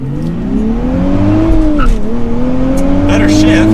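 A 2023 Nissan Z Performance with a manual gearbox launching hard on launch control, its engine note climbing steadily, dipping briefly at a shift and then pulling on, loud and close from inside the cabin.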